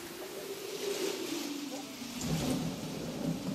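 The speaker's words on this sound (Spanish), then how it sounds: "Vaya tormenta." Heavy rain pours steadily with deep thunder rumbling through a storm, the roar swelling in the second half.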